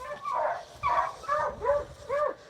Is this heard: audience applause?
no